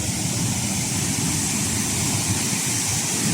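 The Düdem waterfall on the Turkish coast drops from cliffs straight into the sea, heard as a constant, loud, broadband roar of rushing, crashing water with no voices over it.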